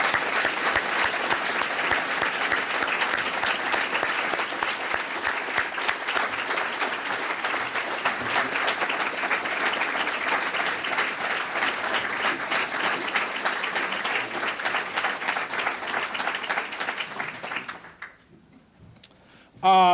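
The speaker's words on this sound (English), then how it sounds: "So would you stand and join me in giving him a rousing round of applause" An audience at a lecture at the African Presidential Center applauds Ambassador Zhong Jianhua in a sustained, dense round of clapping lasting most of the stretch, then it stops abruptly into near silence before a loud sound at the very end.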